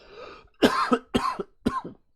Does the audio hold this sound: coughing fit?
yes